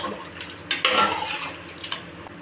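Water poured into a cooking pot for chicken biryani rice makes a brief splashing gush with a few light drips. It is close and moderately loud, with no talking.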